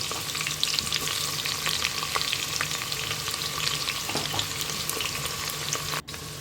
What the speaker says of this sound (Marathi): कांदा घालून तो व्यवस्थितरित्या तेलामध्ये परतून घेऊया.